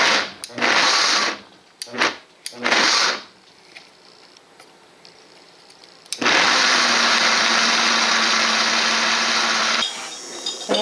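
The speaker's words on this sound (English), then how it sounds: "I'll blend this." A blender whirs through ingredients for vegan queso, a few short loud bursts starting and stopping, then a long sustained high-pitched grind that runs steadily for several seconds before easing off.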